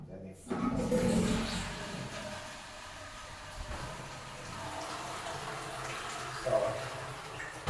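Water runs into a plumbing fixture just after a leak repair, making a steady rushing hiss that holds close and even for several seconds.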